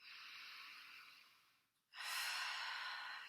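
One long, soft, close breath is drawn in during a calming yoga flow, then after a brief pause a fuller, louder exhale rushes out, breathy and airy with no voice.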